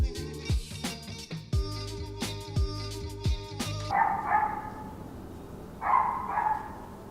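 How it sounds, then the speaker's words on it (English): Neighbors' dogs barking in a residential area, several sharp distant barks and yips scattered across the clip, first over a music bed and then against a quieter background. "I told y'all about my neighbors and their fucking dogs, yo. They got like 15 of them, and they're always yelling."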